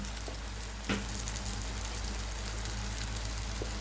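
Crab roast masala with turmeric, chili and pepper powders sautéing in oil in a pan, a steady soft sizzle and frying hiss throughout with a brief stir clatter near the start.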